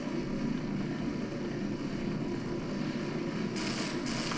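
A helicopter in the video game Half-Life gives a steady droning engine and rotor hum at moderate level with a constant low throb, and a brief higher hiss near the end.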